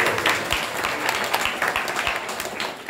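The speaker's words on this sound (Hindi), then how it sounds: "ये ताली है भक्ति विनोद ठाकुर के लिए" Audience at a devotional lecture applauding, a dense steady burst of many hands clapping, fairly close and filling the space for a few seconds.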